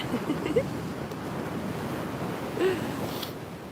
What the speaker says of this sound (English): Renee, isn't it wonderful to hear the waves? The waves are so amazing.